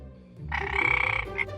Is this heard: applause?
no